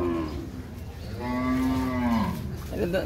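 A cow moos loudly and close by at the Aricha Qurbani cattle market, one long low call that rises and falls, with faint background noise around it.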